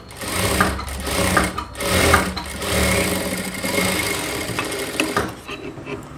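A sewing machine stitches the armhole seam of a blouse, its motor whirring loudly and steadily in several close bursts with brief pauses between runs.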